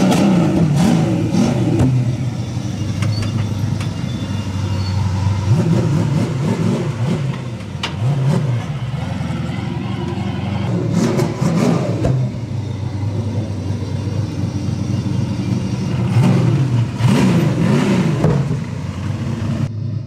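A car engine revs hard and repeatedly, roaring up and falling back in loud surges over a steady rumbling idle.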